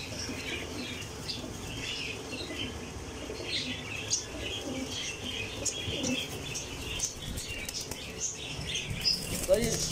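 Pigeons flap their wings repeatedly in a loft, the fluttering and scuffling steady throughout with occasional faint chirps over a constant background hum.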